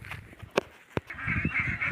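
Farm ducks kept in hot summer weather quack in a few sharp, loud bursts, then break into a steadier run of nasal calls close by, with no talk.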